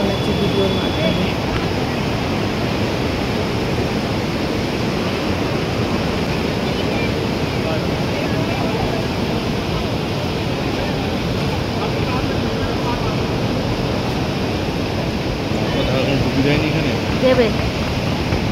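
Hot spring water pours steadily beside Manikaran Gurudwara, a continuous broadband rushing roar that holds constant throughout, with no clear talk over it.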